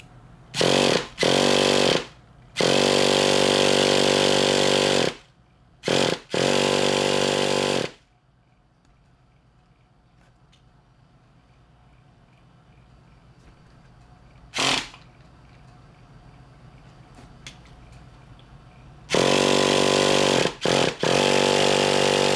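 Nitro engine of a Traxxas Revo/Slayer RC truck, idle set too low: loud, harsh bursts of revving broken by short gaps, then a long quiet stretch with one brief blip before the engine roars again.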